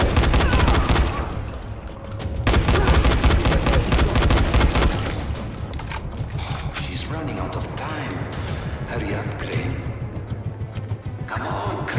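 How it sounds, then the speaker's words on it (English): Rapid gunfire in the video game Dying Light rattles in dense bursts, loud and close, then thins into scattered shots under the game's ambient noise. "Make it easy for me to shoot you."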